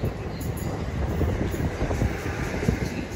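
A BR Class 455 electric train at Clapham Junction, a loud, continuous rumble and rattle of wheels on track with a steady rushing roar, heard close by throughout.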